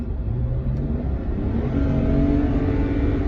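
A BMW car engine revs up hard as the throttle is hit at full power through a pedal tuner, a loud, rising drone that swells steadily over a few seconds.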